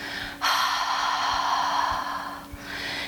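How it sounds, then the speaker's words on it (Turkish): A single long breath pushed out through the mouth, a steady airy whoosh lasting about two seconds, close and alone. "Başını ileriye doğru getir ve ağızdan nefes ver."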